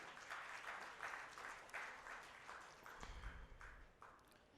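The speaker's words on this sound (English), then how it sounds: "Can I have a huge round of applause for" Audience applause at a summit session honouring a guest speaker, sustained and moderately distant clapping across the whole stretch with a low thump near the end.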